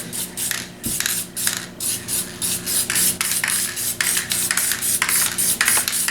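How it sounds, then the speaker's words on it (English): A spray gun lays down a light tack coat during a paint repair, giving a loud, close series of rhythmic hissing bursts that repeat roughly every half second and are heard alone. "First thing we're going to do is lay down a tack coat."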